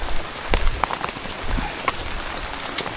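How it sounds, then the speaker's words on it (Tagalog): Heavy rain pours down hard on surfaces nearby, a dense continuous hiss with scattered louder drops and splashes, loud and unbroken. "Yan, sakto lang, lumakas yung ulan oh."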